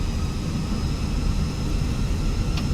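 Airbus A320 jet engines spool up for takeoff in Microsoft Flight Simulator 2020 (Fenix A320) during a low-visibility departure: a loud, steady, broadband roar and rumble that runs without pause and without talk.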